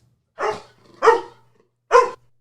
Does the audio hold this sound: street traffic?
no